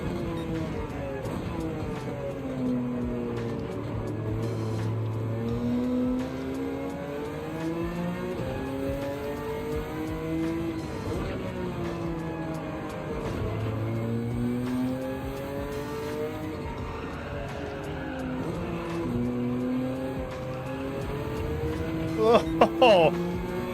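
Race car engine droning and revving in Gran Turismo 7, pitch rising and falling through gear changes in a long continuous run, with a brief sharp burst near the end.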